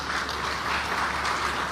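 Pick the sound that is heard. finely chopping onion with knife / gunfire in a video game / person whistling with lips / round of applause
round of applause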